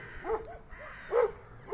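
Stray dogs in a residential neighbourhood of Doğubeyazıt, Ağrı, bark and yelp in several short, spaced bursts at moderate distance, the loudest near the middle and end, with no talking over them.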